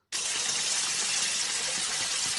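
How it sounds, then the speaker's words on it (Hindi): Water gushes from a tap inside a house, starting abruptly and running as a steady, fairly close hiss with no talk. "मुझे लगता है तुम्हारे घर में कहीं पानी बह रहा है"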